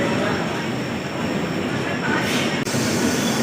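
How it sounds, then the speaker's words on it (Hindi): A train pulling into a station platform at Delhi Junction bound for Ayodhya Cantt, a loud continuous rumble of wheels and cars rolling past, with voices talking over it and a brief clank near the end. "तो अयोध्या कैंट को जाने वाली दिल्ली जंक्शन से ट्रेन आ चुकी है"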